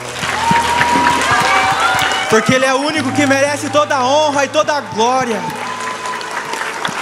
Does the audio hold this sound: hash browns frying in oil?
no